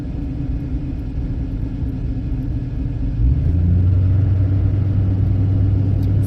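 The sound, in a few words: cars passing by on the road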